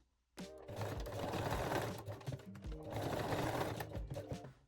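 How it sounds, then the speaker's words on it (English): A sewing machine runs steadily while stitching the strap end of a lace bralette, in two bursts of fast, even needle chatter with a brief pause between them, close and clear with no talk. "Now secure the last or second strap end with a straight stitch or zigzag if you like to"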